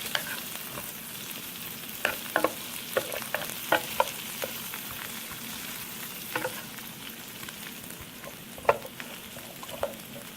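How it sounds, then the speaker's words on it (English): Shrimp tossed and fried in a pan for a Bangla prawn dopiyaza, a soft continuous sizzle dotted with irregular clicks and scrapes of the utensil against the pan throughout. "And then keep tossing until the shrimp gets soft."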